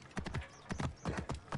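Hooves of a galloping horse in Assassin's Creed Origins beat in quick, loud clip-clop bursts, three clusters of rapid strikes over a short run with brief gaps between them.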